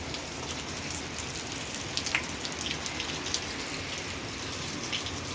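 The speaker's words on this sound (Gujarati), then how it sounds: "તારા ગામમાં વરસાદ ચાલુ થઈ ગયો ઝરમર ઝરમર" Light monsoon drizzle falling in Chhara village, Gujarat, a soft continuous hiss of rain with occasional closer drips and patters, steady and fairly faint throughout.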